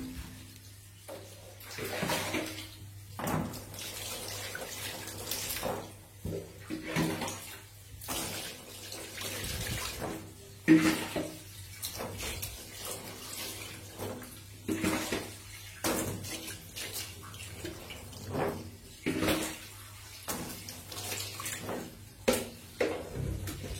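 Water is poured and splashed over a screen-printing screen to rinse it. The pouring comes in repeated uneven bursts of running and splashing water, fairly close by, with no talking.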